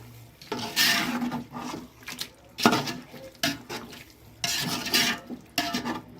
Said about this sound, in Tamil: உப்பு தேவையான அளவுக்கு போட்டுட்டு நம்ம வந்து கொஞ்சம் கிளறி விட்டுக்கலாம்